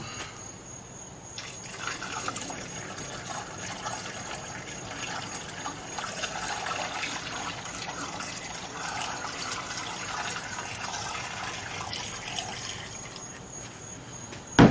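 Liquid pours steadily into the gas tank of a rotten old 1956 VW Beetle, a continuous hissing gush that rises and holds for over ten seconds before ending with a sharp knock.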